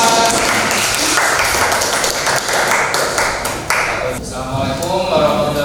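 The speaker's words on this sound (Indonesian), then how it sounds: "Kasih tepuk tangan dong." A classroom audience claps for a student team about to present, with uneven, fairly close hand claps and taps that thin out toward the end as other room noise takes over.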